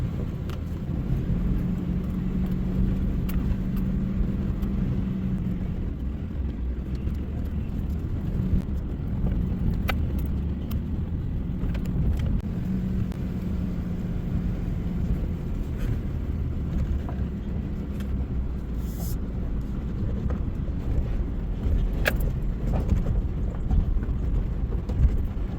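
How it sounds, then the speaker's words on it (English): A 1-ton Ford pickup crawls slowly over a rough, rocky road, its low engine rumble steady and close throughout, with jolts and rattles from the truck body over the bumps and no one talking. "It's rough, and when you're driving a 1-ton Ford pickup, yeah, you know it."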